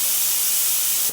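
An air-compressor-fed paint spray gun set to about 30 PSI sprays, giving a steady close hiss of airflow that cuts off at the end.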